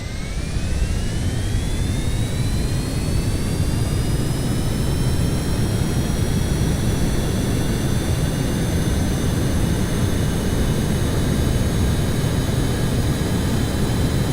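A propeller aircraft engine built in Minecraft's Create Aeronautics mod throttles up into a loud, steady roar, with rising whining tones climbing in pitch over the first several seconds before holding level, no talking over it.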